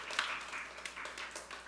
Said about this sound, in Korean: 우리 박수 한번 들어볼까요?